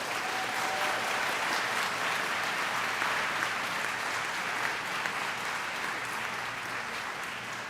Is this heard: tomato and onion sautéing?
no